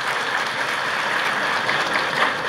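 Audience applause at a Bangladesh Bank announcement about a fund for new entrepreneurs, a steady, full round of many hands clapping at moderate loudness, continuous for a couple of seconds with no talk.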